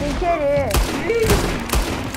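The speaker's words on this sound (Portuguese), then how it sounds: "Quem tá atirando?" Sharp gunshot bursts crack at a steady pace over a busy Red Dead Redemption 2 online soundscape, with a voice talking between the shots.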